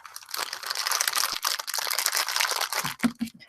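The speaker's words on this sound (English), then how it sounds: "you hear all the crinkly paper" Crinkly paper packaging from a microphone unboxing rustles and crackles close up, continuous crumpling with sharper crunches toward the end.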